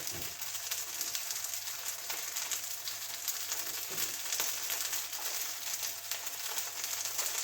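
Butter beans frying in a pan with just enough oil to cover the bottom, a steady, close, crackling sizzle that continues evenly throughout without talk.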